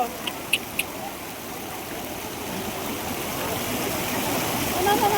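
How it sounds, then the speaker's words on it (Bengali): The fountain in front of the Taj Mahal gives a steady, broad rush of falling water, loud and constant, with a few brief clicks at the start and voices in the background. "এই দেখো তাজমহলের সামনে যে ঝর্ণাটা আছে সেটা"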